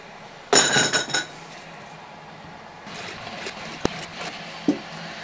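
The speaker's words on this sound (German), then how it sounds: "Schritt 1, Gläser sterilisieren." Glass jars clinking and rattling together while being sterilised for homemade tomato sauce, first a loud cluster of chinks, then quieter bubbling with a few isolated sharp clinks, no voices.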